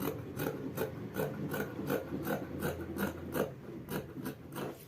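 Scissors cutting fabric for an oversize shirt make a steady run of crisp, rhythmic snips close by, about two per second, with no talking.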